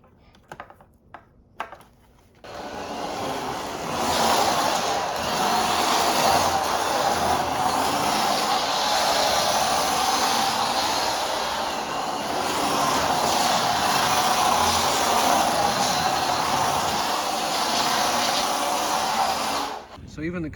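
A WPL D42 or D12 RC drift car fitted with drift wheels runs on concrete, a steady loud whirring motor and tyre hiss that holds for about seventeen seconds after a brief quiet start.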